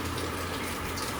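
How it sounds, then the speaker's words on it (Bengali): Water pouring into a cupped hand, a short, steady, soft rush of flowing water at moderate distance with no voices. "আমার হাতের মধ্যে জল দাও তো একটু"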